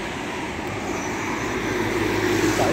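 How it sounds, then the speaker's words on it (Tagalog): Heavy evening road traffic, a steady dense roar of passing vehicles with a low engine drone that grows slightly louder near the end, with no talking. "Kaya masyado ma-traffic."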